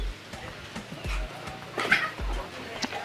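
Two dogs outside a house give short barks and whimpering yips at moderate distance, scattered over faint background noise.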